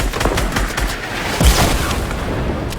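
Rapid bursts of gunfire in the Fortnite Battle Royale video game, a steady rattle of shots throughout with one heavier boom near the middle, loud and close.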